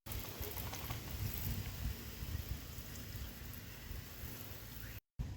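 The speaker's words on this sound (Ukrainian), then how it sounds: "беремо і змиваємо все водою" Water sprays steadily against a car wheel and tire, a dense continuous hiss and patter that runs without pause until a brief cutoff near the end.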